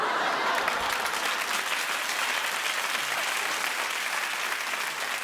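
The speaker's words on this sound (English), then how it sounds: "Clap if you think she's reaching for a handbag." A studio audience at a daytime talk show claps steadily and loudly, a dense wash of hands that holds for the whole stretch before tapering slightly at the end.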